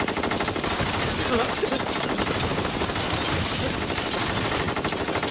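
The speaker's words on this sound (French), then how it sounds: "Des coups de feu ont été tirés au 6600 Laurel Canyon, Banque d'Amérique" AK-47 rifles fire during a film bank robbery, a dense continuous rattle of automatic gunfire heard at a fairly distant, muffled level with no speech.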